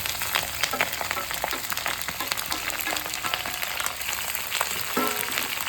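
Chopped ginger, garlic and green chili sizzle in hot oil for pickle making, a dense, crackling fry with steady popping that stays close and loud throughout, with no voices.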